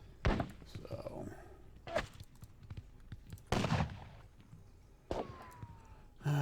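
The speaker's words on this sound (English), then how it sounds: "it's just going to be lots and lots of cannon fire coming my way" Cannon fire in a Battle of Dennewitz strategy game: four heavy booming blasts spaced about a second and a half apart, each with a low rumbling tail, with a faint whistling streak near the end.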